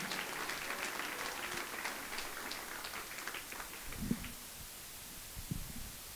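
A church congregation at an evangelical event in Dubai claps together, a faint, dense and continuous patter of many hands heard from a distance.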